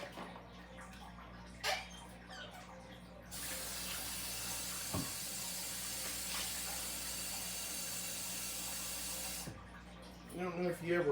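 An alcohol penny stove burns under a pot holding two quarts of water, a steady broadband hiss that swells in after a few seconds and holds for about six seconds before dropping away, with faint sounds around it.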